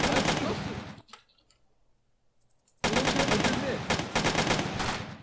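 Bursts of rapid gunfire from MTA DayZ, a multiplayer survival shooter, ring out loud and close, then a near-silent gap before another long barrage of shots.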